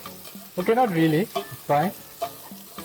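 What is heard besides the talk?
onions sizzling in a hot pan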